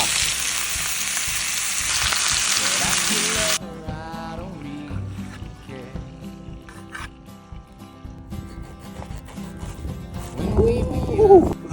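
Steak sizzles loudly in garlic and herb butter on an outdoor camp stove in the Tetons. The dense, steady hiss drops away after a few seconds to softer cooking noises and faint background sounds.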